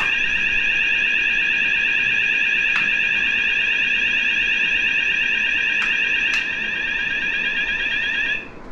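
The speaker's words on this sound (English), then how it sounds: "So you can see the one unit's already in alarm, the other one will catch up now." Luminite ALERTEX wireless lockdown alarm units sound together in a loud, steady electronic tone, sustained and piercing with a few sharp clicks, before the level drops slightly and then cuts out near the end.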